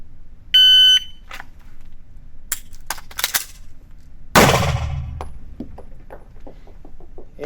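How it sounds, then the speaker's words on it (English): An H9 pistol malfunction drill on a range: a short electronic timer beep, a few small mechanical clicks from tapping and racking the slide, then one loud sharp gunshot, followed by faint clicks. "I'm gonna draw, make a click or nothing, tap rack and bang"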